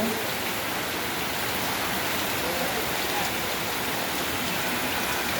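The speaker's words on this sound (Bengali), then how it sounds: "আজকে তো প্রচণ্ড বৃষ্টি হচ্ছে" Heavy rain in Jaipur, Rajasthan pours down in a constant, loud roar of hiss with no break, a dense wash of drops close by.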